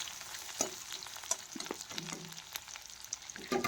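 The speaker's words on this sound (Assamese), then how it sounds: "কেঁচা জলকীয়া আৰু নহৰুখিনিও মই দি দিলোঁ একেলগে।" Green chillies and garlic fry in hot oil in a kadai alongside onions, giving a faint sizzling hiss broken by a few sharp spatula scrapes and stirring clicks, heard close with no talking.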